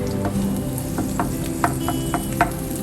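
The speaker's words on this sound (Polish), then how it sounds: "Smażymy jedną cebulkę. Tak delikatnie smażymy." Onions sizzle steadily in olive oil in a hot pan, with a few sharp scrapes and taps of a utensil stirring them, close by and fairly loud.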